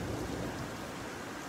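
Steady spring rain at dawn in São Paulo, a dense even hiss with a low rumble underneath, continuous and fairly quiet, no voices.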